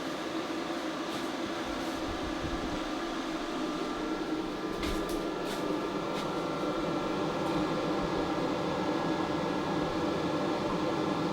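A YesWelder Firstess MP200 MIG welder laying a weld bead, a steady buzzing hiss with constant crackle and a few brief pops, continuous and fairly close.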